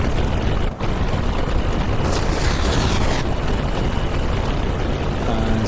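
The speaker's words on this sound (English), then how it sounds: "There's another explosion near the command centre." An explosion near the command centre in an island-capture strategy video game: a sharp crack is followed by a dense, continuous rumbling din of battle fire.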